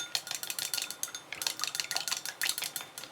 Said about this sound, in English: We need to beat this now until there is no strings, or there are no strings of white left at all.